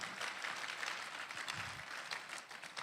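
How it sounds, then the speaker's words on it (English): An audience at a business summit claps in rhythm, a faint, dense patter of hands that swells and dips slightly over a few seconds, heard from a distance without talk. "let's give Dr. Olumide Emmanuel a round of applause"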